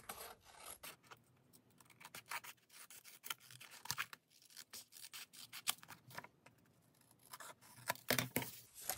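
Designer paper for a monochromatic card is trimmed with a rasping, scraping rhythm of uneven strokes, close and quiet, with brief pauses between cuts.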